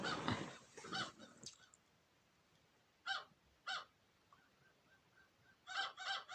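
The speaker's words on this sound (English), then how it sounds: "I think one of the crows just flew in." Short bursts of crow caws come from nearby, two or three at a time with pauses between them, over a hushed indoor background.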